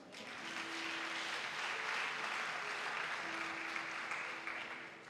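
A church congregation applauds during a Sunday worship service, a dense, sustained clapping that swells and holds for several seconds before easing slightly, with a faint tone sounding underneath.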